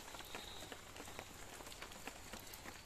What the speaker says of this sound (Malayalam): എന്നാലും നനയാ മാത്രമുള്ള മഴ ഒക്കെ ഉണ്ട്